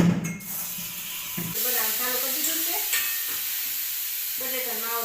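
Green chutney with chillies and coriander is tempered in hot oil, sizzling and hissing close by with stirring scrapes throughout, while a person talks over it.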